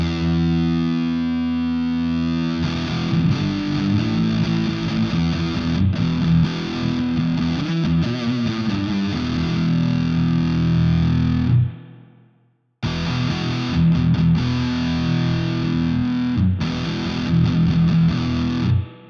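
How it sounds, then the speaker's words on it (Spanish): Heavily distorted electric guitar runs through a fuzz pedal into a Soldano SLO 100 amp simulation, playing thick sustained stoner-rock riffs after a cleaner opening, with a brief drop to silence near the end. "Le da un sonido de fuzz como más stoner rock"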